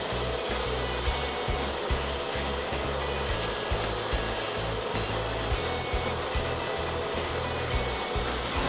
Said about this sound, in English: then run through a machine where it gets bottled